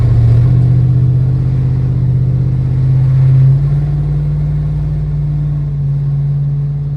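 An old truck with a 6.0 engine and a newly fitted fuel pump drives along with a loud, steady engine drone. The pitch steps up partway through, then holds.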